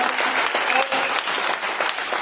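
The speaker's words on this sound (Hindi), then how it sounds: "जबरदस्त ताली होनी चाहिए" Dense, continuous audience clapping at a gathering, moderately loud and close, with no talking over it.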